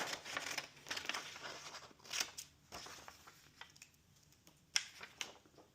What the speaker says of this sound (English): you're going to take your scissors and you're going to cut the first sentence